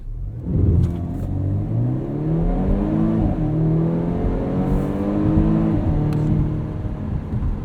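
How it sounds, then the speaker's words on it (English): A 2019 Volvo S60 T6 R-Design engine revs up repeatedly in dynamic mode, its pitch climbing then dropping sharply at each quick gear change, three shifts in steady succession, close and loud. "Super fast shifts in dynamic mode."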